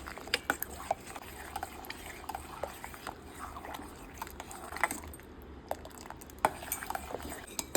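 A spoon stirs thick fruit custard in a pot, giving repeated soft scrapes and clinks against the metal at an irregular pace, close by and fairly quiet.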